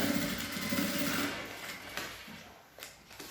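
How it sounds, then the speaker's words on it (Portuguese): Sewing machine running a safety seam along the edge of a fabric car trash bag with pockets, a steady mechanical whir with light clatter that fades near the end, heard alone without talk. "Posso entrar aqui na máquina e passar uma costura de segurança na borda"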